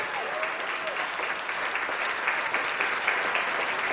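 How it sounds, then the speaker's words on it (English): Steady audience applause fills the room, a continuous dense patter of many hands clapping at moderate loudness, with a few slightly sharper claps standing out and no talking over it. "How about a big round of applause for the Parliament Cleaning Group?"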